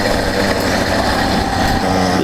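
A 100cc iron-sleeve two-stroke motorized bicycle engine revs hard and loud, holding a steady, buzzing high-pitched drone without letup for the whole stretch.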